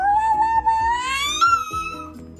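A young child imitates a cat, producing one long, rising, high-pitched meow that holds steady and loud before trailing off, with no other talking.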